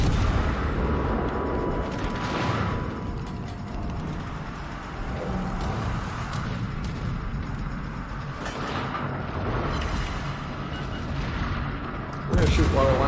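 Heavy naval guns fire in a warship battle game aboard the cruiser Riga, deep booming salvos rolling under steady engine and sea rumble, with a sharp loud blast near the end and a voice talking throughout.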